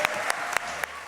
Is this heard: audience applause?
yes